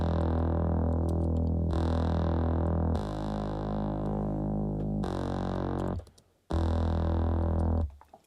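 Distorted, crunchy bass part from a hip-hop track, playing alone in loud sustained notes with a brief dropout before it returns.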